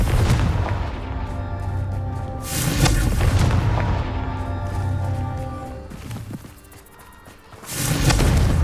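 Confringo blasting spell explosions in the Hogwarts Legacy video game, deep repeated booms with rumbling tails over continuous game ambience, loud and close.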